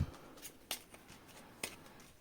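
A deck of tarot cards is shuffled by hand in a few quick, soft riffling bursts with quiet gaps between them, close and faint.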